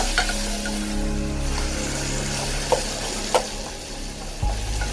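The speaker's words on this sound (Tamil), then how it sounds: "நல்லா வெங்காயம் தக்காளியையும் வதக்கி விட்டுக்கலாம்." Onions and tomatoes sauté in a pan with a steady, loud sizzle, broken by a few clinks of stirring, with no voices.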